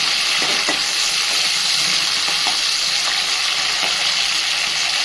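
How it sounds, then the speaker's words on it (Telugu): Garlic fries in hot oil in a pan for a gongura stem chutney, giving a steady, loud, close sizzle with faint stirring scrapes and no talk. "ఇప్పుడు మనం దీనిలో వెల్లుల్లి కూడా వేసుకొని వేగనివ్వాలి కొద్దిగా"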